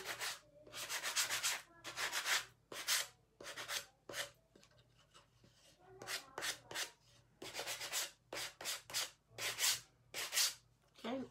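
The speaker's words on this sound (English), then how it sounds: "Then I'm just gonna get my sanding block" Repeated rasping strokes of a sanding block roughening and distressing a surface, in quick back-and-forth bursts separated by short pauses, close by.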